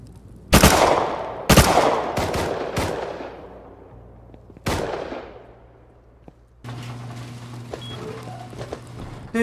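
Gunshots in a base-building survival video game crack out loud and close, several sharp reports spaced unevenly with long decaying echoes, followed by a lower steady hum.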